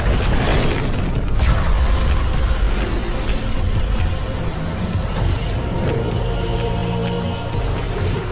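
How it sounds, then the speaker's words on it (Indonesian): Lightning bolts unleashed by an enraged thunder god in a fantasy film blast with a booming burst, followed by rumbling and crackling effects that sustain loudly with layered mechanical tones. "mengamuk dengan melepaskan tembakan-tembakan petirnya"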